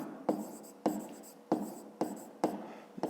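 Handwriting during a fifth-grade math lesson: pen or chalk strokes in short scratchy bursts, about five evenly spaced, close and quiet, with no talk.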